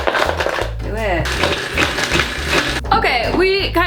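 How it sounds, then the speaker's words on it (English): A high-speed blender crushing ice cubes into shaved ice for a mint julep: harsh, grinding crunches and rattling bursts, loud and close, with a voice calling out over the noise. "This is a high-speed blender."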